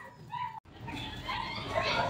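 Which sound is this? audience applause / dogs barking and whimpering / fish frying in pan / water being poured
dogs barking and whimpering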